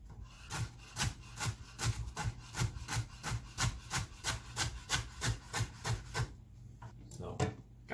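A knife slices a dark green celery stalk into thin pieces on a cutting board. About two dozen crisp, evenly spaced chops sound close, with a brief pause near the end.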